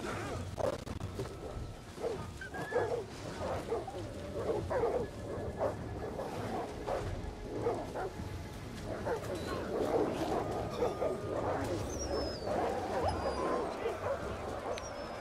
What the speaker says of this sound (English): So we'll release the Warhounds first.